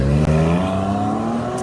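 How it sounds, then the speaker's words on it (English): A car engine revs hard and close, its pitch climbing steadily as it accelerates, loud and sustained over a second or two. "I make that much noise with that car."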